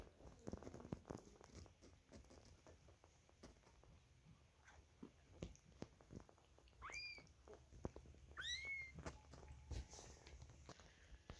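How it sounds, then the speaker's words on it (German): Two-week-old British Shorthair kittens give two faint, high mewing cries, spaced a second or so apart, amid quiet rustling and soft shuffling close by. "Bella liebt ihre Kätzchen sehr und wenn sie sie irgendwo miauen hört, dann kommt sie direkt her und putzt sie."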